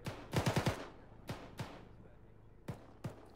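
Machine gun fire in a military video game, a quick burst of four rapid shots followed by several single reports spaced apart, loud and close.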